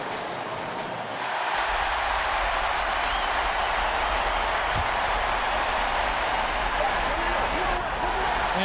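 Simulated home crowd in a College Hoops 2K20 basketball game between Iowa State and Seton Hall, a steady, loud roar of cheering and applause that swells after a quiet opening and holds throughout.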